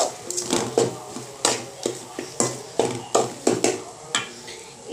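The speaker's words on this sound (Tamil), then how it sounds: "இப்போ நல்லா மிக்ஸ் பண்ணிடலாம்." A spoon stirring egg masala with rock salt in a metal pan, giving repeated scraping clanks in an uneven rhythm, close and clear with no talk.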